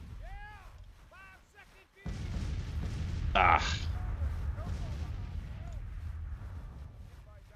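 Cannon artillery in the Civil War strategy game Grand Tactician booms in a dense, continuous barrage of heavy rumbling fire, with a sharp burst partway through and a short vocal exclamation.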